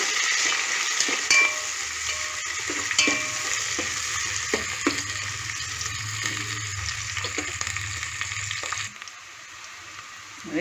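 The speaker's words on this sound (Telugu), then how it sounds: "నూనె కాగింది ఎర్రగడ్డలు వేసుకున్నాను ముందు ఇప్పుడు బాగా ఏగాలి" Onions fry in hot oil, a constant close sizzle broken by repeated stirring clatters against the pan, quieting noticeably near the end.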